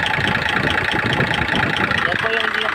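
A car engine idles after a cylinder head and head gasket replacement, with a steady, loud mechanical rumble running throughout. A voice speaks over it.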